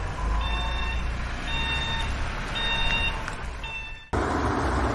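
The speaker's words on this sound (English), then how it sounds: "tow truck" A tow truck sounds repeated high reversing beeps in a regular on-off rhythm over a steady low engine drone, with a sudden shift in the background near the end.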